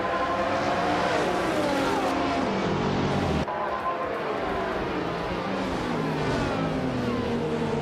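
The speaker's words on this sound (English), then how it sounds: "He's driving a classic 1999 BMW V12LR, so expect some serious throwback speed today." A 1999 BMW V12LR race car at Indianapolis roars past at full throttle, its engine whining and rising through revs among other cars, loud and continuous for several seconds.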